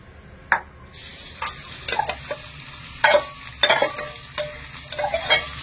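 Mashed boiled potatoes sizzling and frying in a pan, stirred with irregular scraping strokes and soft clacks of a utensil against the pan over a steady low sizzle.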